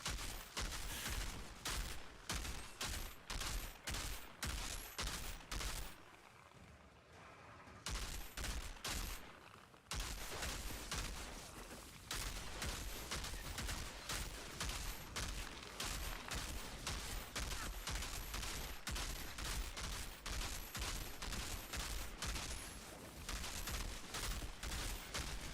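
Dense, continuous gunfire from Outriders, rapid overlapping shots and bursts filling nearly the whole stretch, loud and close, with a short quieter lull partway through before the firing resumes.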